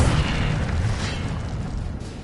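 A fire-spell blast cast in a Harry Potter video game: a loud, roaring burst that starts heavy and rumbling, then sustains as a broad whooshing flame for a couple of seconds, slowly easing off, with no voices.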